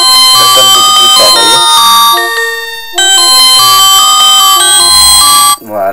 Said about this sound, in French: Si je mets celle-là par exemple, je mets le volume de la sonnerie.